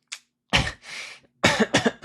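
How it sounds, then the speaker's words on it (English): Several rough throat-clearing bursts, close and fairly loud, separated by short pauses. "I need to clear my throat."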